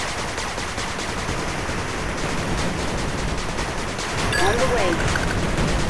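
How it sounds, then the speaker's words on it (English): Machine gun turret firing in the video game 8-Bit Armies, a dense continuous rattle of rapid gunfire throughout, with a brief electronic beep and a short unit voice line near the end. "Machine gun turret under attack."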